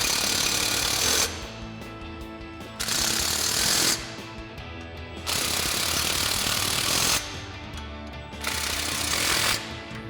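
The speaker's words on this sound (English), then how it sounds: "Now we can tighten down the rest of our remaining clamps with our 15mm socket on our impact." An impact wrench with a 15mm socket tightens exhaust clamps on a 2022-2024 Toyota Tundra with a Flowmaster FlexFX single exhaust, firing in four loud, close hammering bursts separated by short pauses, with no talking.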